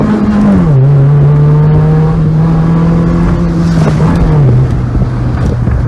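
A loud Peugeot 306 GTR engine revs hard and climbs in pitch with gear changes as the car accelerates hard, close and continuous throughout.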